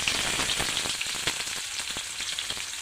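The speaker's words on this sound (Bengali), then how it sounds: "পেঁয়াজগুলো আমি লাল লাল করে ভেজে নেবো একটু" Chopped onions dropped into hot spiced oil, frying with a dense, steady crackling sizzle and occasional light stirring, close and continuous throughout.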